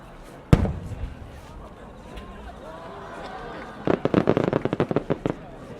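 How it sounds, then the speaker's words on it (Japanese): Japanese fireworks shells bursting at the Omagari fireworks competition: a single sharp distant boom early on, then a rapid crackling flurry of pops and bangs near the end over faint crowd murmur. "上り極道付き三重新変化菊、上り極道付き新入り彩色千輪の花"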